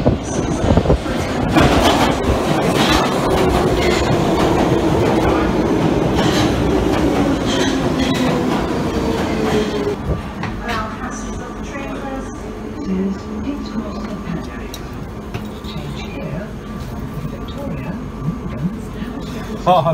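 Train carriage rolling on rails with a loud, continuous rumble and rhythmic clatter, a rising wheel whine in the first half, then quieter rolling; people chat nearby throughout.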